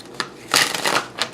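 Tarot cards being shuffled by hand: a short flick, then a longer riffling burst and a final quick snap, close and fairly crisp with no talk.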